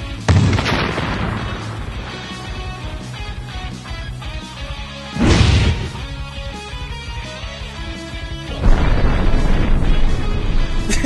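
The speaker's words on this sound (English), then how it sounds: "Explosive rounds, more like explosion rounds." Explosive rounds from a Destiny video game weapon detonate in three heavy, loud booms spaced a few seconds apart, each with a rumbling tail, amid continuous in-game battle noise.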